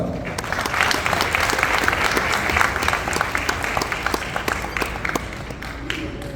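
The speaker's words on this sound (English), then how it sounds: "So why don't we all give a round of applause to our loving God?" Audience at a Christian school moving-up graduation ceremony breaks into sustained, dense applause, a steady wash of many hands clapping at even volume for the full stretch, with no voices over it.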